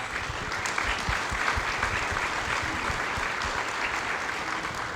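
Audience at a community forum celebrating immigrants in Marin giving panelists a round of applause, a sustained, even wash of clapping from many hands, moderately distant, without talk.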